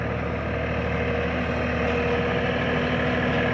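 Truck engine idling steadily with a loud, even low-pitched hum and a faint whine that could come from a winch running at the same time, close and unbroken, with no voices.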